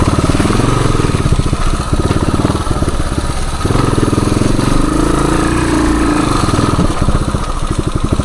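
A 1978 Suzuki DR370 motorcycle ridden on woods trails: a steady, throbbing single-cylinder engine drone runs close and loud, with slight swells in revs and no talking.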